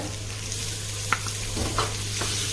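Green chilies sautéing in a pan for macaroni upma, with a soft steady sizzle and a few stirring clatters, before cooked toor dal is added; close and moderately quiet, no talk.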